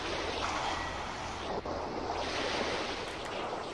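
Deep water ambience in the game Pirate Doom II, a continuous roaring wash of surf and wind, steady and fairly loud with one brief dip midway.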